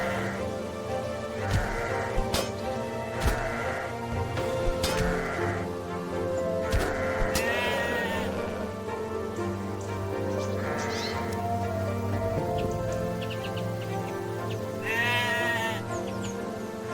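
Sheep in the video game The Black Grimoire: Cursebreaker bleat repeatedly in short, close calls spaced every second or two, over a continuous low game soundscape with hits and clatter.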